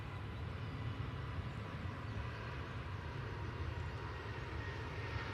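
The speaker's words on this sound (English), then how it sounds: "EasyJet off to Tenerife. It's an A320 Neo." An EasyJet Airbus A320neo departs for Tenerife from Manchester, a steady, fairly distant jet engine roar that holds evenly throughout with no voices.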